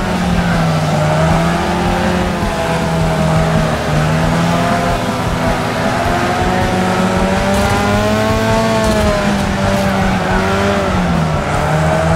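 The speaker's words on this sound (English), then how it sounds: "Oh, big wreck in front of us." Racing cars in the video game Wreckfest roar and skid through a pileup, engines droning loudly and tires squealing continuously throughout.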